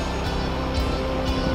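Yamaha Nmax scooter, modified, pulling hard up a steep hill climb at Cinomati; a steady, loud engine drone with low rumble runs throughout, close up with some wind noise and no pauses.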